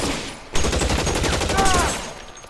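Dense video-game gunfire from L.A. Noire, a loud sustained burst of rapid overlapping shots running for about two seconds with a faint voice underneath.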